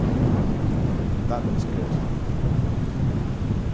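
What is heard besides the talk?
rain and thunder in Microsoft Flight Simulator video game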